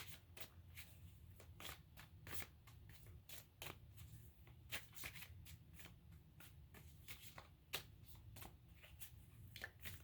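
Tarot cards are shuffled by hand in quick, irregular bursts of crisp riffling and slapping, close but quiet over a low room hum, continuing throughout without talk.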